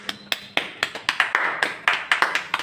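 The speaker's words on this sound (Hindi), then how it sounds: "आप लोग एक जोरदार ताली दे दीजिए कि थोड़ा सा मेरा एनर्जी बूस्ट हो" A classroom audience claps on request during a Hindi-language lesson about Bihu, with a dozen or so sharp, uneven hand claps spaced across a few seconds. Each clap is crisp and distinct, and there is no talking over them.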